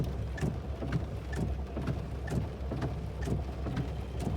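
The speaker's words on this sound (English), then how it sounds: "And it is raining. It is a rainy day." Steady rain falling on a rainy day, a dense continuous patter with scattered louder drops, moderately close and alone with no voices.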